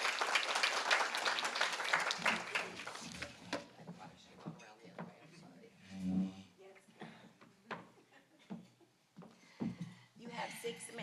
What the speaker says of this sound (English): Please give her a round of applause as she comes forth.